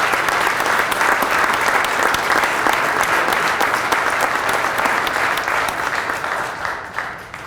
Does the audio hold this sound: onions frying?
no